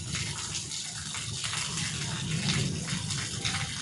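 Heavy rain falling in a Punjabi village, a steady, dense hiss of water pouring down and splashing nearby, continuous and even throughout.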